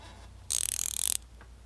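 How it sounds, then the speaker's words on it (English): A spanner wrench turns the Eibach coilover height collar on a Ford Mustang's rear suspension, giving a close, rapid metallic ratcheting rattle that lasts under a second, with no talk. "use the provided spanner wrench to turn the collar up or down"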